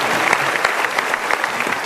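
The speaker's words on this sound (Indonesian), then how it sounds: "Sekali lagi kita berikan tepuk tangan." A studio audience on the Mario Teguh Golden Ways talk show breaks into applause, with brisk, dense clapping at a steady level from start to finish.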